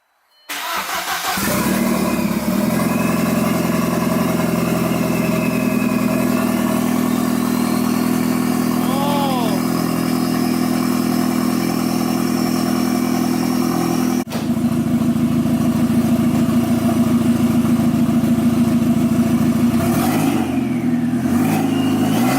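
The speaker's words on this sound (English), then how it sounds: "A little cold start." An Audi engine cranks and fires on a cold start, then settles into a loud, steady, close idle for the rest of the time, with a small blip near the end.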